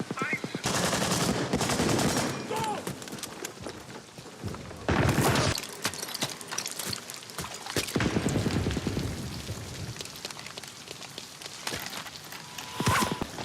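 Battlefield gunfire from the film Saving Private Ryan rings out in scattered bursts and sharp cracks, some heavy, mixed with loud booms and other battle noise, with voices talking at moments.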